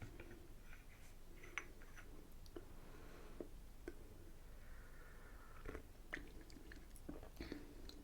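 Someone chews a biscuit close up in a quiet room, with scattered soft crunches and bites coming at irregular intervals over faint background hiss.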